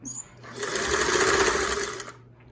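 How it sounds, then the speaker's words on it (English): A Singer 328k sewing machine runs a straight stitch at center needle position, a steady, close mechanical whir with rapid rhythmic clatter lasting about two seconds before stopping. "I've got my stitch width set on 0, which is going to give me a straight stitch."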